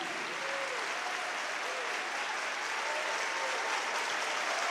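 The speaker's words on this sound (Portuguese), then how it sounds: "Uma salva de palmas para vocês" Audience applauding in a parish church in São Paulo, a dense, even roar of many hands clapping continuously at steady volume throughout, with a faint voice briefly audible early on.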